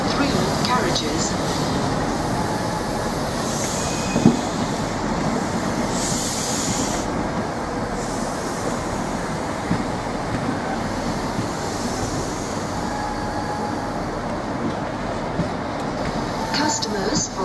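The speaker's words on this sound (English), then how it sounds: "This train is formed of 3 carriages." A three-carriage train sits at London Marylebone station, its diesel engine rumbling in a steady, loud drone that fills the platform, with faint station noise and announcements around it.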